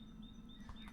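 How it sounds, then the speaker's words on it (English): Faint, distant bird chirps with thin, high tweets come over a low steady hum in the TerraFirmaCraft mod of Minecraft, quiet and scattered across the second. "Oh, I hear birds, so it may be"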